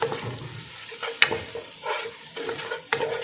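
Pabda fish stirred in a pan with salt, turmeric and Kashmiri chili, with uneven scraping and clattering strokes and sharp utensil clicks over a light sizzle, close by.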